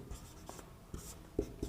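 Chalk or marker writing on a classroom board during a maths lesson: a few short, quiet scratchy strokes spaced irregularly, close by with no talking.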